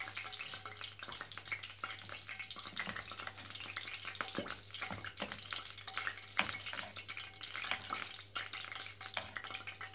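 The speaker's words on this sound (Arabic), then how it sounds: "وبنبتدي نقلي القرنبيط في الزيت" Cauliflower florets dipped in batter frying in very hot oil, giving a steady close crackling sizzle with scattered pops and stirring clinks throughout, no voices.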